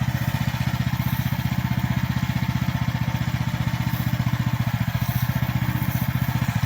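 A small AGT H12r mini excavator engine runs at a steady idle, a close, even, rapidly pulsing putter that holds constant throughout with no voices.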